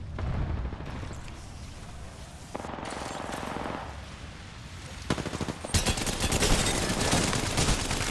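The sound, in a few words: sniper rifle gunfire exchange in video game Apex Legends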